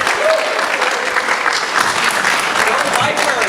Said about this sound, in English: give a big round of applause and welcome Pastor Jason Spears